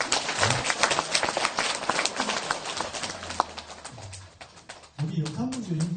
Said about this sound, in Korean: 우리가 이 박수 쳐야 돼요